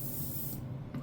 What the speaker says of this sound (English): whenever your ink is applied nice and even, and then starting to even out here, you kind of get this nice even sound